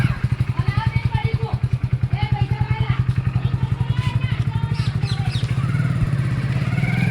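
A motorcycle engine putters steadily and close by, its rapid, even pulsing running throughout as the bike rides along beside water in Patan.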